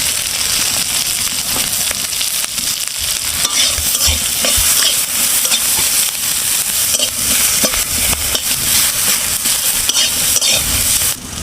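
Green chillies, onion and garlic frying loudly in a pan with a spatula stirring and scraping through them, a continuous bright sizzle with clattering strokes throughout and no talking.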